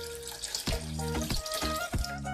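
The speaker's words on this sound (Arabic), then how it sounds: "الان نزيد له الماء" Water poured into a blender holding red pumpkin and carrot for juice, a steady splashing pour with a few brief gurgling bursts, close and fairly loud.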